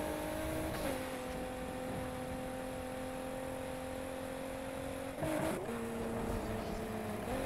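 Car engine in the racing game Need for Speed Heat roaring steadily at high revs during a nitro boost, with sudden pitch shifts as gears change, close and continuous.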